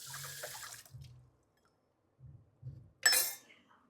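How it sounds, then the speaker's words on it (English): A running kitchen tap rinsing something, with short bursts of water and a light clink of dishes, close and fairly quiet. "I'm going to rinse this off."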